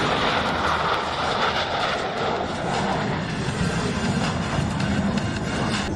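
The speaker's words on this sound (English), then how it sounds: "From the right, the Blue Angel Double Farvel." Blue Angels jets fly the Double Farvel at the Lincoln Airshow, giving a loud, broad roar that stays steady across the whole moment with no voices over it.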